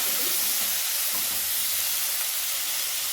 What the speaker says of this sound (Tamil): இந்த இஞ்சி பூண்டு எல்லாமே நல்லா வதங்கட்டும்